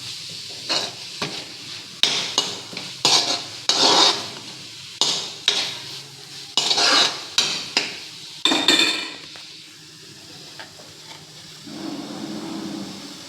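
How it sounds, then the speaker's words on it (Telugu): Soya curry gravy with added water is stirred in a cooking pan, making a steady run of rhythmic scraping and clinking strokes about once a second, close and fairly loud, before settling into a quieter simmering hiss. No one talks. "ఈ మసాలాస్, ఈ టమాటో, ఆనియన్స్, ఈ గ్రేవీ అంతా కలవాలి కదండి"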